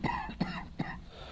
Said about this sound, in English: Stupid cough.